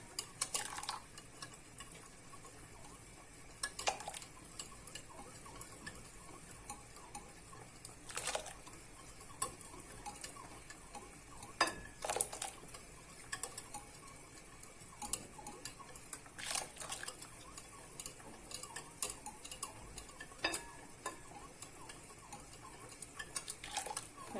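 A spoon stirs yogurt into boiling Muradiye soup, its quick, repeated clinks and scrapes against the pot close and fairly faint, coming in irregular bursts over a low simmering hiss with no talking.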